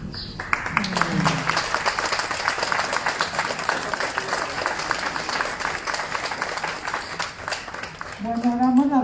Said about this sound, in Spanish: damos la bienvenida con ese aplauso maravilloso